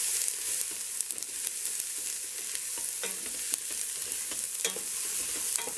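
Onions sautéing in a pot as the base for a beef stew, a steady close hiss of frying with occasional soft scrapes and taps of stirring throughout.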